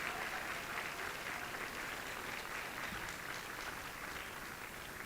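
Audience applause at a medical college convocation ceremony, steady continuous clapping from a large crowd heard at a moderate distance throughout.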